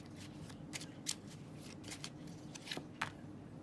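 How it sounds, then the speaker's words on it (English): Tarot cards slide and flick as one is pulled from a deck, giving several brief papery swishes and snaps, close and quiet, with no talking. "let's pull the last one out of this deck"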